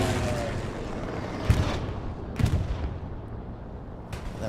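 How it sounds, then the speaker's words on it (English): A German precision strike bombing run in Hell Let Loose on the Carentan map, three heavy explosions landing about a second apart over a low, rumbling battlefield din, fairly distant and without speech. "That was a German bombing run, or excuse me, precision strike."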